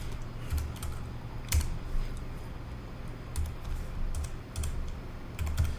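Computer keyboard typing in irregular short bursts of keystrokes, close and moderately loud over a steady low hum, entering port numbers during setup of a Cisco ASA firewall.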